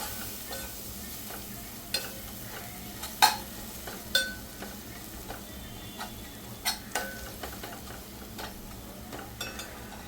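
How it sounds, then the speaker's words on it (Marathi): Biryani masala, chilli powder and turmeric stirred into chicken in a pan: a soft sizzle with scattered scraping clicks of a spoon against the pot. "छान मिक्स करून घ्यायचं आहे।"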